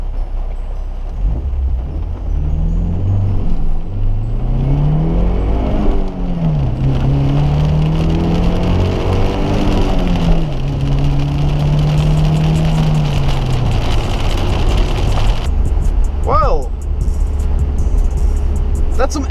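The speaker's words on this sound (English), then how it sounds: "That's some S13 drifting for you." Stock Nissan S13 200SX drifting on a wet road, the engine revving up and down in rising and falling sweeps over loud road and wind roar, with brief voices and whistling turbo noises near the end.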